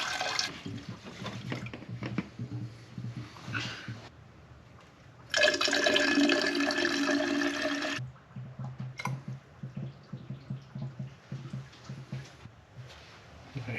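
Water poured into the engine block of a GTO during a radiator flush, a steady gushing splash for a few seconds amid quieter trickling and clatter.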